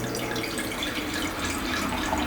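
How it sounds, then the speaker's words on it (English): Liquid being poured into a glass, a steady splashing water-like stream running close and fairly loud throughout, with no voices. "So let's pour a glass"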